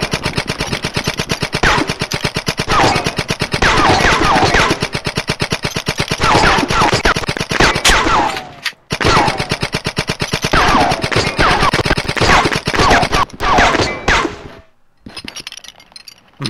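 Rapid automatic gunfire in the video game Blood 'n' Bacon, loud and close, rattling in long sustained bursts with metallic clinks and a couple of brief pauses before trailing off near the end.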